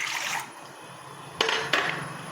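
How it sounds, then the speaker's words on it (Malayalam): Two cups of water poured into a heavy-bottomed pan on a stove, a steady close rush of liquid with a short quieter stretch, then two sharp knocks of the vessel. "ഒരു 2 കപ്പ് വെള്ളം ഒഴിച്ചു കൊടുക്കാം."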